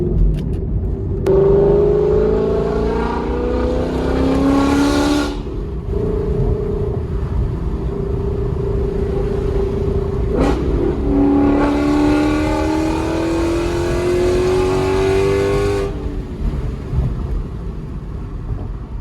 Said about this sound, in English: I really love how the Mustang sounds with these headers